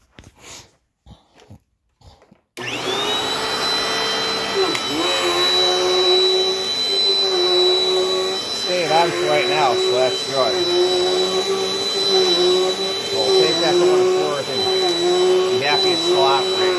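A few brief knocks in near silence, then a Dirt Devil Dynamite Plus upright vacuum cleaner starts with a loud whine and keeps running steadily, its pitch wavering slightly.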